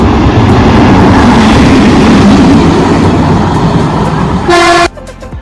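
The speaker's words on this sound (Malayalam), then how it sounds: "ഇവിടെ ട്രെയിൻ വരുന്നുണ്ട്." An approaching train passes close by with a loud, continuous roar of wheels and engine, then a short, sharp horn blast sounds just before the noise drops away.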